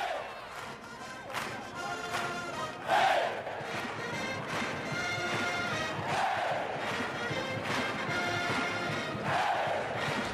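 A packed college basketball arena crowd at a Maryland game in College Park roars and cheers steadily, with a band playing beneath the noise and brief louder swells rising out of the din.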